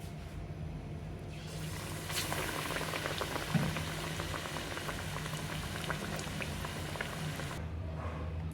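Bread pakoda sizzling as it fries in hot oil, a steady dense crackle and bubbling that runs throughout at close range with no talking.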